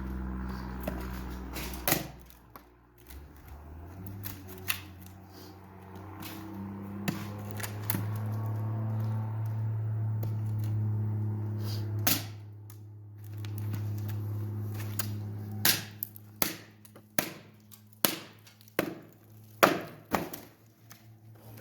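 A camp knife blade stabs the top of a cow skull in a series of sharp knocks and thunks, irregular at first and then quicker near the end, over a low steady hum.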